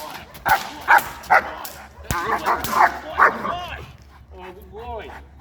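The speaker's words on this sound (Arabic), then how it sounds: "هتسمعوا في الفيديو كده صوت كلب بلدي." An Egyptian baladi dog barks in sharp, close bursts, a quick run of three yaps, then a clustered volley of barks and whimpering yelps, with a voice speaking in the background.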